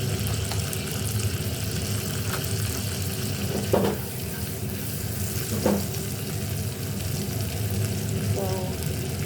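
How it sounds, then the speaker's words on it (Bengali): Garlic cloves and chicken pieces fry over high heat in a pan, giving a steady, close sizzle with occasional stirring scrapes and clacks, no talking. "রসুনও ভাজতে হবে।"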